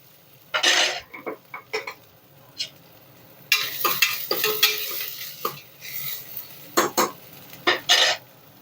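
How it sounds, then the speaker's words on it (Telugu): Ginger and garlic fry in hot oil in a pan, a soft sizzle broken by repeated scraping and clattering strokes of a spoon stirring, some quick and isolated, others in a busy run. "అల్లం వెల్లుల్లి వేసేద్దాం ఆయిల్లో ఇలా పచ్చిపోయే వరకు వేయించేసుకోవాలి."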